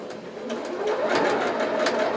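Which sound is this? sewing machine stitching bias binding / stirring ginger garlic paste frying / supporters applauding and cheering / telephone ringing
sewing machine stitching bias binding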